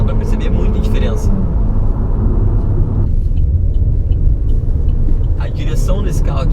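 Engine of a 2018 Chevrolet Cruze Sedan LTZ pulling after a downshift, a steady low rumble heard from inside the cabin with a person talking over it throughout.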